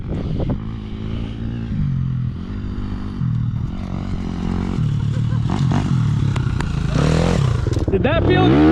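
Motorcycle on a badlands trail ride labouring uphill in third gear, a steady loud engine drone with shifting pitch and clattering, rising toward the end, with voices talking over it.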